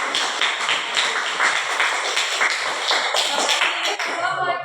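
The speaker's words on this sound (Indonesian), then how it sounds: "Beri tepuk tangan dulu." High-school class applauding after a group presentation, brisk, fairly loud clapping from many hands in a classroom, with a few distinct sharp claps standing out as it tapers off.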